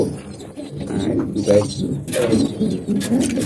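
Young pigeons, paired male and female, coo softly close by in a loft, low throaty calls rising now and then beneath someone talking throughout.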